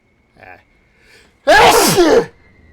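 A loud, sharp sneeze bursts out close by after a faint sharp intake of breath, then fades quickly into quiet.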